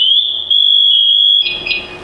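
A loud, shrill electronic alarm tone from a firefighter's PASS distress alarm, sounding continuously, then breaking into a warbling pattern near the end.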